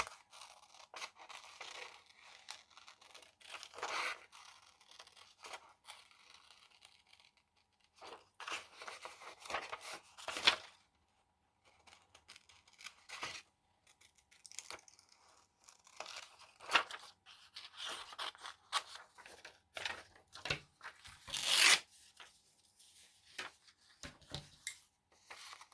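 Scissors cut a paper picture out of a page for a book-page pocket tag, giving quiet, close snipping and rustling with irregular crisp cuts and paper crinkles.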